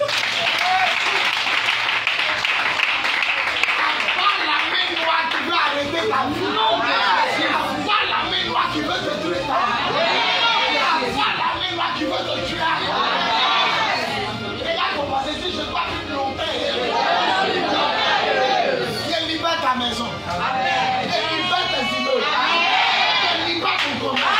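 A church congregation applauds and cheers for Jesus, a dense, steady wall of clapping with shouts and voices mixed in that carries on without a break.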